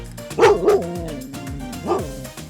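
A dog barks on a beach campsite in Baja California Sur, Mexico, giving a few sharp, fairly close barks in quick succession with a short pause before a final one.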